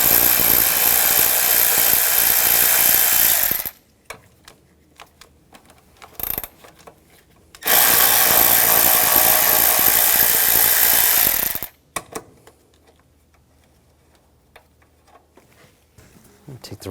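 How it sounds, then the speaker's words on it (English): A ratchet with a 10mm socket works nuts loose on a 2009-2013 BMW 328i xDrive 3.0L I6, giving two loud, close bursts of rapid clicking, each about four seconds long, separated by quieter handling noises. "Use a 10mm socket."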